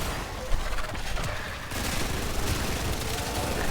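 Rapid sustained gunfire from Titania Prime in the game Warframe, a dense continuous stream of shots that grows busier partway through, with no talk.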